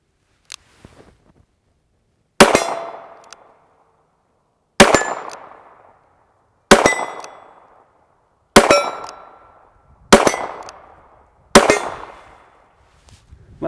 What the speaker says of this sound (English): Shooting some different variety of ammo here. That's the great thing about a revolver.